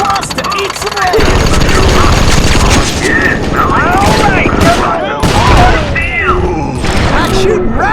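Rapid gunfire from a shooting sequence in the Sly Cooper: Thieves in Time video game, sustained bursts over game music and effects, loud and continuous.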